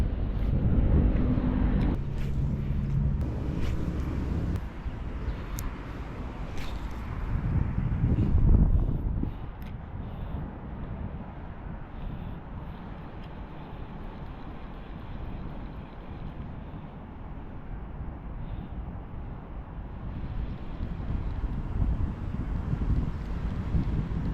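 Wind buffets the microphone in a continuous low rumble on a fishing boat at sea, with water and boat noise in the background and a few brief knocks early on.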